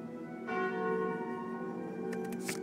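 A bell chimes from the Calling Bell relic in Slay the Spire, a sustained resonant church-bell toll that rings out and lingers, with a few brief bright clicks near the end.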